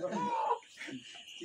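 A rooster clucks close by in a short burst, followed by quieter scratchy rustling over about a second and a half.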